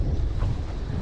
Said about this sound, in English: Whoa, she's windy now.